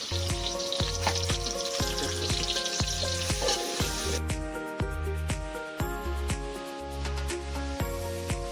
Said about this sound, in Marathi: जो आपण कांदा टाकलेला आहे तो अशा प्रकारे एक पाच ते सात मिनिट असा परतून घ्यायचा आहे